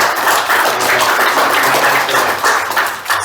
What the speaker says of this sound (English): everybody should give yourselves a round of applause